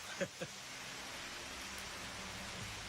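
Steady nighttime rain falling at 1 a.m., a soft continuous hiss of drops, with a couple of brief voice-like bursts near the start before the rain carries on alone, fairly faint throughout.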